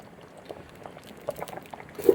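Cassava pieces boil in a pot of water for Kerala-style beef and cassava biriyani, giving soft, irregular bubbling and light popping that grows a little busier toward the end.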